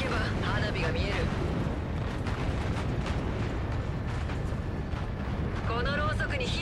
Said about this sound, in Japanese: 爆破を眺めるとしよう。